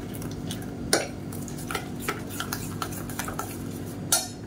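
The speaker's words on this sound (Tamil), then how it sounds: "இது எல்லாத்தையும் கட்டி இல்லாமல் நல்லா கரைச்சிக்கலாம்." A utensil stirs idli batter mixed with semolina to break up lumps, giving soft, irregular scraping and clicking against the bowl, with a sharper knock near the start and another near the end.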